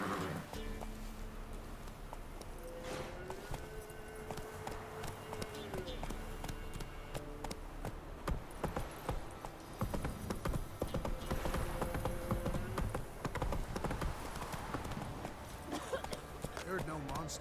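Roach, the horse in The Witcher 3, gallops with steady rapid hoofbeats, close and continuous throughout, under a voice and game dialogue with background music.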